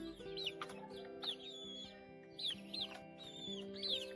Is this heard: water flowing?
no